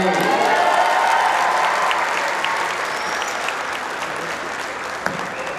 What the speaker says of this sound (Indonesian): tepuk tangan untuk semua yang hadir di sini